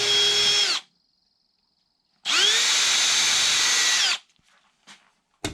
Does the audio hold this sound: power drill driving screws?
yes